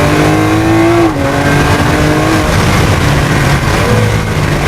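A 2015 Lamborghini Aventador Roadster engine revving loud and close, a sustained roar that dips briefly at a gear change before climbing again.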